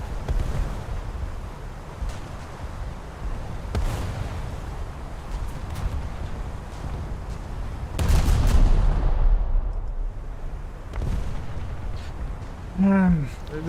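Cruiser Voroshilov's main guns fire at destroyers in a naval warfare video game: heavy booming salvos and a louder blast near the middle, over a constant rumble of ship noise, while someone talks throughout.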